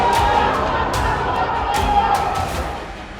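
Rioting crowd during violence and arson in the Mahal area of Nagpur, a dense roar of shouting with scattered sharp thuds and bangs, loud and close, as police try to control the mob.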